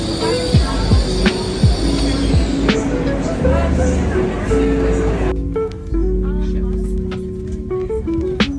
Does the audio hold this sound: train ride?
yes